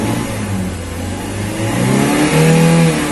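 A Daihatsu Luxio engine revs loudly and steadily up close during a diagnostic check, its drone rising in pitch and intensity toward the end with no talk.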